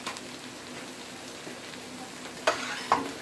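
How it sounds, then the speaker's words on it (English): Vegetables stir-frying in hot oil, a steady close sizzle with a couple of sharp clatters of stirring near the end. "I'll stir fry the vegetables. Put a little oil in there, which I did."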